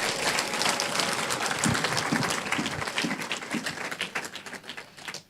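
A church congregation applauds with dense, fast clapping that holds steady for a few seconds and then thins into scattered, fading claps near the end.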